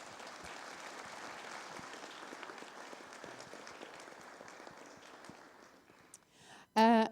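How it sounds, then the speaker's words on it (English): An audience applauds at the end of a cybersecurity seminar, a steady even patter of many hands at moderate distance that thins out and fades, then a brief loud tone cuts in at the very end. "So a big hand of applause for all these people."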